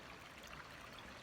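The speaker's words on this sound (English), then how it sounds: "so this water rushes through here" Water rushing through a stream, a soft, steady broadband wash with no pauses, faint and even throughout, closing with a tiny sharp click.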